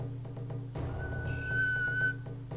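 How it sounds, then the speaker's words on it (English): A person whistles by drawing air inward, a single thin sustained tone lasting about a second, close and moderately loud over a low background hum. "I learned how to whistle by whistling inwards"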